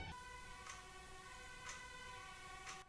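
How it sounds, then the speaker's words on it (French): A distant ambulance siren wails faintly in a steady repeating cycle of tones, heard quietly through a low background hum. "Je crois que l'ambulance a compris qu'on arrivait à la fin de l'opéra"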